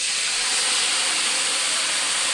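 Beef cubes hit a very hot pan and are tossed for Vietnamese shaking beef, producing a loud, dense, unbroken hissing sizzle.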